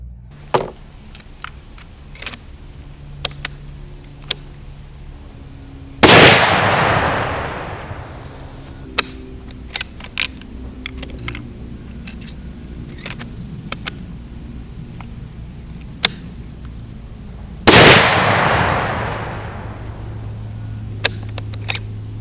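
A Ruger American rifle chambered in 450 Bushmaster fires two loud, sharp shots about eleven seconds apart, each with a long booming decay, and faint clicks and handling noises fill the gaps between them.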